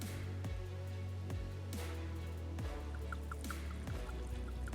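Spring water drawn from a nearby source in Quba, Azerbaijan, is poured out in a steady, close stream with drips and light splashes, continuing alone for a few seconds.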